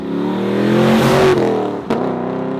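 A car engine on a rebuilt wrecked exotic Ute revs up loudly and close, pitch climbing steadily, then dips sharply on a downshift before picking back up with no voices.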